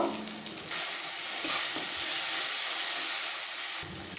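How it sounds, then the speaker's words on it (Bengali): Cumin, chili powder, salt and turmeric sauté in a pan for a bitter gourd fish curry, with a close, hissing sizzle and stirring scrapes that swell after a quieter start and drop off near the end. "মশলাটাকে আমি ভালো করে কষিয়ে নেব।"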